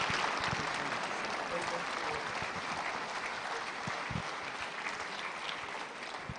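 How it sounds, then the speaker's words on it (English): Sustained applause from a congregation at a memorial service of songs, a steady moderately distant clapping that holds evenly for several seconds with faint voices underneath. "Please, another round of applause for General Yakubu and Mrs. Victoria Gowan."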